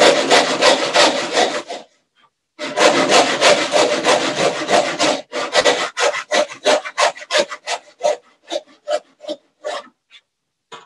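A hand saw cuts a kerf into the back side of a board during pre-industrial joinery work, first in long steady rasping runs, then a pause, then a quickening series of shorter strokes that thin out and stop, close and loud with no talk.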